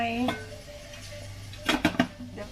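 A cup is set into a pot of boiling water for steaming egg in a home kitchen, a few close ceramic and metal clinks near the end, with someone talking earlier.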